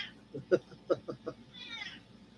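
A house cat meows indoors: a few short, soft meows in quick succession, close by, with faint room noise behind.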